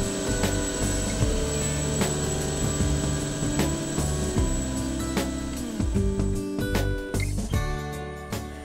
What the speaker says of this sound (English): a helicopter was the way to go